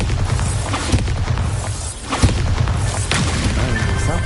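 A Bombarda spell in Hogwarts Legacy blasts with a loud, dense crashing boom, followed by rumbling debris and a second heavy impact, all loud and close with no talking.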